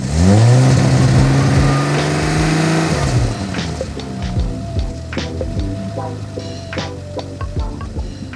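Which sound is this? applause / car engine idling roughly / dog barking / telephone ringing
car engine idling roughly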